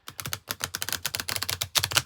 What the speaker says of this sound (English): I do kind of riffle shuffle